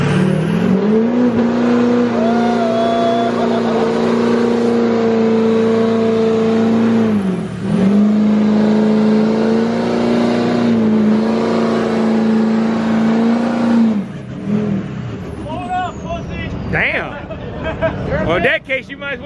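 A car at a 2022 truck and car show does a burnout, its engine held at a loud, sustained high rev with one brief dip, then revving in short bursts as a crowd chatters around it.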